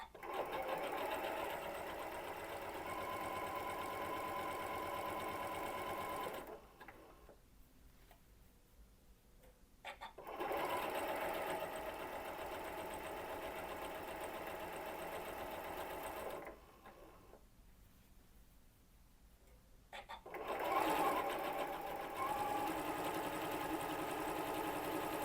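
A sewing machine runs in three long, steady bursts separated by short quiet pauses while chain piecing fall quilt blocks, close and even with a fast ticking hum.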